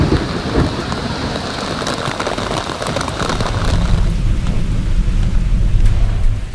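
Sudden heavy rain pours down in Dhaka, a loud, steady hiss and patter of drops on surfaces that thickens and deepens into a rumbling downpour.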